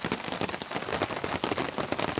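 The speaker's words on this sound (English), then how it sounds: "Enjoy the rain" Heavy rain patters densely and steadily on a tent at a camp, a close, continuous drumming of drops with no voices.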